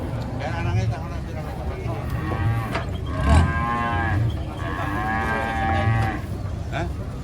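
Cattle mooing repeatedly while being unloaded from a truck at a livestock market, the calls rising over steady crowd and engine noise, with people talking nearby.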